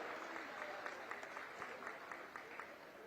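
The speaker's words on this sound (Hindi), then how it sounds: "जोरदार ताली बजा करके उनका स्वागत करो।" A crowd at a government farmers' program event claps to welcome a minister, the applause fairly distant and diffuse, with individual claps poking out of a continuous wash.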